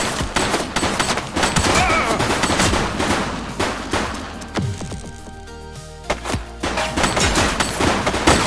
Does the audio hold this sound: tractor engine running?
no